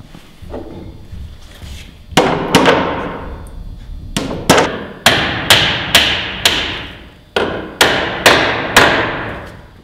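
Copper nail hammered into a wooden toboggan: sharp close hammer blows, a few light taps then a steady run of strong hits with short ringing decays.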